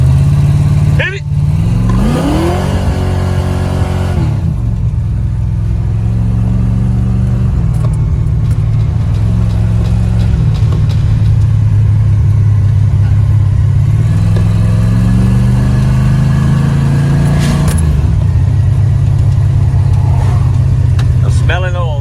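A Mustang street car revs and pulls away hard from first gear, its loud mid-pitched engine note climbing and settling through a sustained run, with people talking over it.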